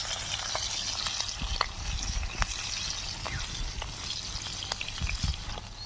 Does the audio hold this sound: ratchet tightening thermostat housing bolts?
no